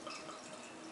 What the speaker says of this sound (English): let me get this thing open and get it poured